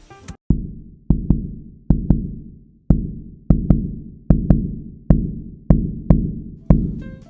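Deep, booming percussion hits pulse in an uneven, syncopated rhythm, each thud decaying briefly before the next, heard alone with no voices.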